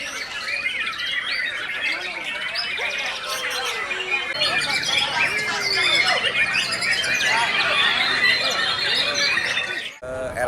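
Songbirds such as canaries, magpie-robins and kacer sing at a bird-singing contest, a dense, loud overlapping chorus of chirps, trills and squawks from many birds at once, continuing throughout.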